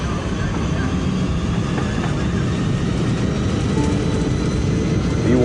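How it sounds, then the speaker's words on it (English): A jumbo jet taking off from Detroit Airport in the evening gives a steady, loud roar of engine noise that stays constant throughout, with no speech over it. "Just after 7 in the evening, Flight 96 lifts off from Detroit Airport."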